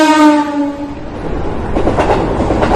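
A train passes close by, a loud horn blast with steady tones in the opening second giving way to rumbling wheels and clattering carriages that keep going to the end, with no voices.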